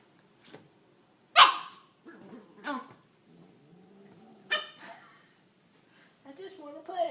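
A dog gives several sharp, close barks and yelps in short bursts while playing with a cat, with quiet gaps between them and some whining sounds near the end.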